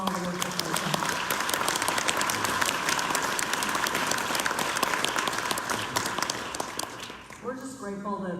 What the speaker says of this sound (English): just give them a round of applause for all the work that they've done